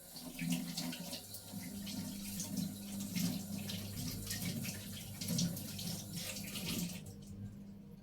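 Water runs steadily from a kitchen tap as something is rinsed under it in a home kitchen, a continuous splashing flow that stops abruptly near the end.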